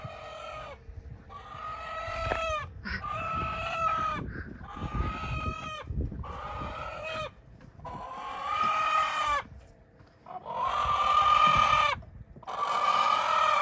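A rooster on a farm crows repeatedly at night, about eight loud, close cock-a-doodle calls in a steady series with short gaps, plus faint clucking and rustling between them.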